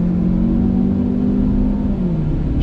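A 2019 Ford Explorer XLT's EcoBoost engine accelerates hard through its 6-speed automatic, a steady loud rising drone with a smooth shift dip near the end and no talking.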